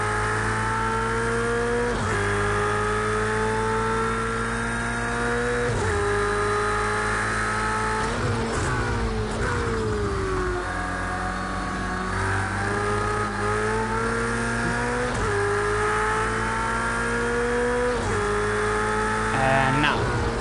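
Porsche race car in Project Cars 2 at Donington, its engine droning steadily with rising and falling revs through gear changes, loud and continuous throughout, with occasional faint talk underneath.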